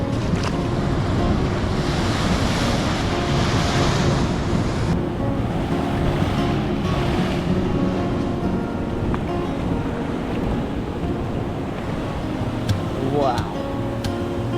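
Ocean waves break against the rocky coast at Dogheads Rock, a continuous heavy roar of surf mixed with gusting wind noise buffeting the microphone.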